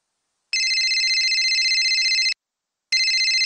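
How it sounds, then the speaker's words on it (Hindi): A telephone rings in a home during a school Urdu role play, with a loud electronic trilling ring: a long burst of nearly two seconds, a short pause, then a second burst starting, close and with no talk over it. "अरे तब्बू जरा फोन तो उठाना।"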